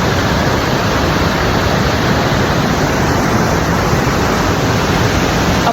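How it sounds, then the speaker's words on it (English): Waterfalls on an off-trail hike over rocks pour with a loud, constant broadband roar, close and unbroken throughout with no voices. "Up those waterfalls,"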